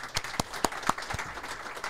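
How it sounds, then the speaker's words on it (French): A small audience applauds guests at an entrepreneurs' talk, with sparse, moderately loud claps in an irregular scatter rather than a full ovation. "Écoute, merci beaucoup, on va t'applaudir."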